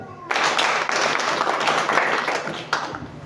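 A church congregation claps for Jesus, a burst of dense, loud applause that starts abruptly and carries on steadily, with a fresh swell near the end.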